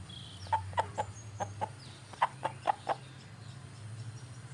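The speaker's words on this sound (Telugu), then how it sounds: "నేను పెంచుతున్న పుంజుకు పుంజు కూడా ఏ జాతి కూడా తెలియదు" A rooster clucks in a run of about nine short, fairly soft calls, some in quick pairs, over a low steady background hum with no voices.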